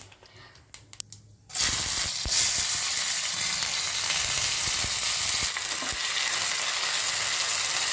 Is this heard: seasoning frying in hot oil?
yes